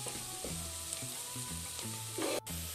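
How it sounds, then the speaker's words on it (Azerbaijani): Chopped carrot and other vegetables sizzle steadily in a frying pan, a continuous crackling hiss with faint stirring and low background hum. "Bunları bir yerdə qovururuq."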